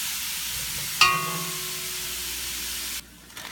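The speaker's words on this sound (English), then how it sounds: "now we're going to let this brown up for 6-7 minutes" Ground beef browns in a hot pan with a steady low sizzle, broken by a brief clatter about a second in, before the frying hiss drops away near the end.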